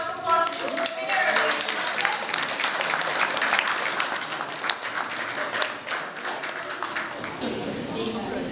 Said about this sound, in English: A big round of applause for the winner.